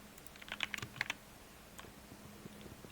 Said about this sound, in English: you can probably hear, like, every single time I do anything with my keyboard